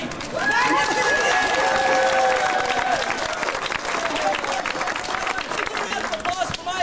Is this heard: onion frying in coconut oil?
no